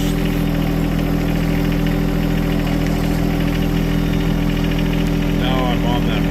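A tractor engine idles on a ranch, a loud, close and steady mid-pitched drone that holds unchanged from start to finish.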